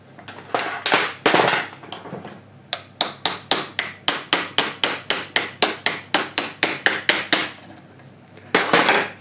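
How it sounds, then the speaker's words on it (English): Rapid, evenly spaced taps from a plastic hammer or screwdriver handle striking the mechanism of a Rockola 430 jukebox, about twenty sharp knocks in a steady run, with a few heavier knocks before and after. "if you're going to hit it with anything, hit it with something plastic"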